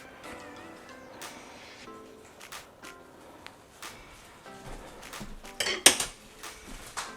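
Chili ingredients, tomatoes among them, are stirred with a utensil in the metal inner pot of an Instant Pot, giving repeated close scraping and clinking knocks that grow louder toward the end.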